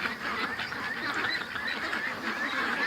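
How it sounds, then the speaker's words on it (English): A flock of penned ducks quacks and honks in agitation, a busy overlapping chorus of calls close by, continuous across the few seconds with no talking. "The ducks are freaking."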